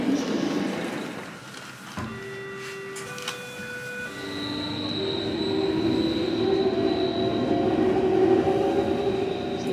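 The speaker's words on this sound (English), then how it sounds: "let's hope this is the right metro" A metro train moves through a large Berlin station with rumbling wheels, squealing rail tones and rising motor whine, close and continuous as the train draws along the platform.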